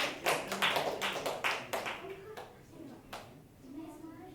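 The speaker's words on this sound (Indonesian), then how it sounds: "Tepuk tangannya dong." Students in a classroom clap for a presenting group, a short burst of scattered, close handclaps that thins out after about two seconds, followed by a few isolated claps and voices.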